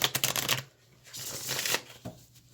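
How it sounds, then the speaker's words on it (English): A deck of cards is riffled and shuffled at close range, with a burst of quick flutters, a short pause, then another riffle, quiet and with no talk. "So let me shuffle these cards here"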